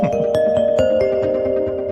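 The Reflection marimba ringtone on iOS 26 plays as bright, mellow marimba notes with a little reverb, ringing close and fairly loud over a steady sustained tone, with no voices.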